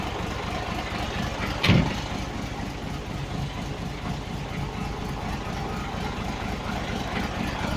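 A Scania 112 truck diesel engine idles in a steady low rumble with a fast even chug, fairly quiet and close, with a single brief knock partway through.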